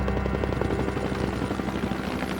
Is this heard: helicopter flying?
yes